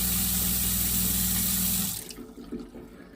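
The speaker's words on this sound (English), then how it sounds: "We got water." Water runs steadily from the faucet of a folding sink inside an overland military truck camper, then cuts off abruptly, leaving a few faint drips and small clatters.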